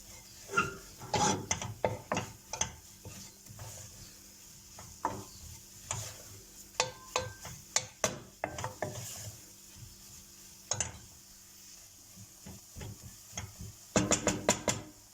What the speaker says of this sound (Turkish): Ve unun kokusu çıkana kadar şöyle 1-2 dakika kavuruyorum